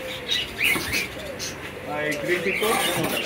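Birds at a bird seller's shop, including parrot-type birds, chirping and calling in short overlapping bursts close by, with a few wing flutters and some people talking in the background.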